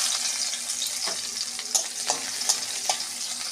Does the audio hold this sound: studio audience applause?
no